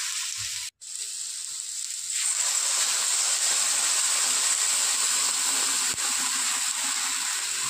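Water goes into a pan of turmeric-coloured potato curry, and after a short quiet stir the cooking erupts into a strong, steady hiss and sizzle that carries on to the end, close and loud.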